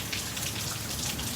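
Steady rain pouring down during flooding on Padre Island, a dense even hiss of drops on surfaces with no voices, close and constant throughout.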